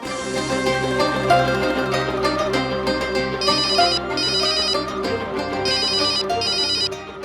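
A telephone ringtone plays a busy electronic melody, loud and continuous, with repeated bright chiming bursts and no one speaking over it.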